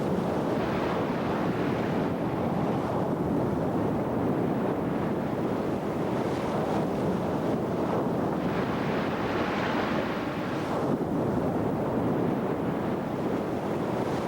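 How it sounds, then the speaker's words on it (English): Strong north wind roars steadily over heavy surf at sea, with waves crashing and churning continuously at close range, loud and unbroken throughout. "Wind, now out of the north, rips the surface of the sea."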